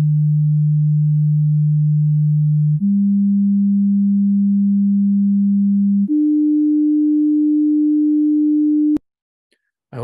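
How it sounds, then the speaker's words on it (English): Three steady pure tones at 150, 200 and 300 hertz play in succession, each holding for about three seconds and stepping up in pitch, loud and clean, ending with a click and brief silence. "we have seen 3 different frequencies, 150 hertz, 200 hertz, 300 hertz"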